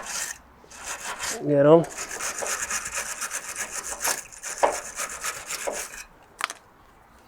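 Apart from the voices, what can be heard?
rubbing down corroded bolt heads on MG TF subframe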